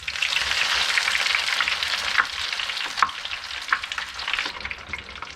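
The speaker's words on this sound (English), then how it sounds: "Deep frying on a wooden boat." Steady, dense sizzling of food deep frying in hot oil aboard a wooden boat, loud and close, with a few sharper pops and crackles breaking through the continuous hiss.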